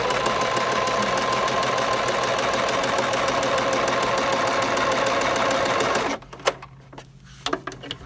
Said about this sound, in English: I'll just sew from the corner to the corner.